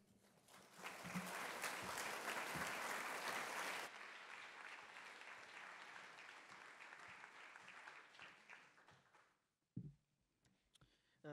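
Audience applause at an evening arts and ideas event welcoming a performer to the stage, loud and sustained at first, then thinning out and fading toward the end.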